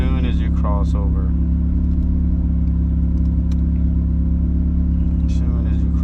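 A turbocharged Honda Del Sol engine holds a loud, steady drone near VTEC crossover, and people talk over it.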